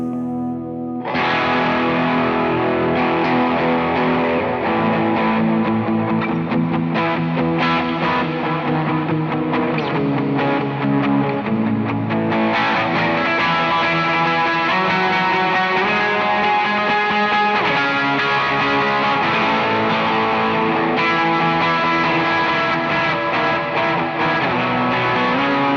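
Electric guitar played through an Ursa Major distortion pedal on a small worship pedalboard, a thick driven tone with sustained chords and notes ringing steadily and loud for the whole stretch, no voices.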